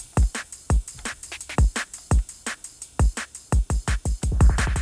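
A drum and bass loop runs with a plain, unremarkable kick under fast snares and percussive hits, a busy syncopated pattern repeating cleanly for a few seconds with no talking.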